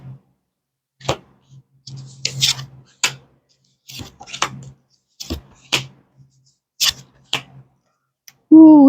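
Tarot cards shuffled and laid out one at a time for a reading, giving a string of brisk, close papery snaps and slaps with short quiet gaps between, followed by a brief voiced sound at the end.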